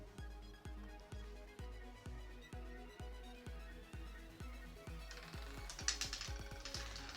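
Steady ticking clicks of a ball skipping around a real casino roulette wheel, evenly spaced and slowing slightly, close and fairly quiet with a brighter rattle near the end.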